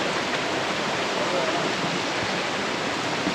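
Zenith Waterfalls near Pune during the monsoon, a steady broadband roar of falling water running loud and unbroken throughout, with no voices.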